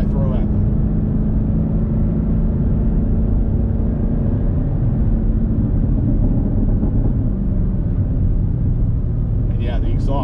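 Chevrolet Camaro ZL1 1LE (2021) exhaust rumbling steadily while driving on the road, a continuous loud low drone with faint pops near the end; someone talks over it.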